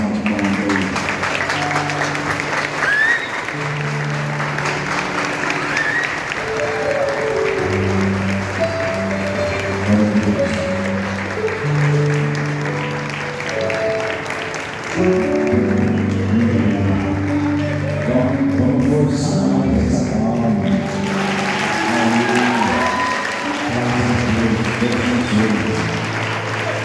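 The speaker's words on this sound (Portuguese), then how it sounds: "vou dar uma salva de palmas para ele." An audience applauds as a couple makes their entrance, a steady, dense wash of clapping that runs the whole time, mixed with voices and tonal sounds that may be music.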